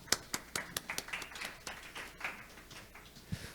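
Scattered applause from a small audience at an international seminar on Arctic shipping routes, a handful of distinct hand claps spaced apart, fairly faint in a room, fading out within a few seconds.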